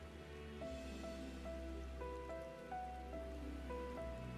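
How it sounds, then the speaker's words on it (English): Steady rain pattering on surfaces in a Final Fantasy XIV game scene, a soft continuous hiss under gentle chiming game music, with no talking. "Can we not stand in the rain for this"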